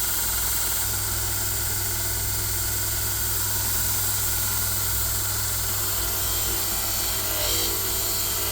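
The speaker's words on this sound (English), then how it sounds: "Let me turn on the exhaust vent as well." Exhaust vent fan running in a workshop during rusty metal restoration, a steady loud droning hum with a constant low tone, continuous and unchanging throughout.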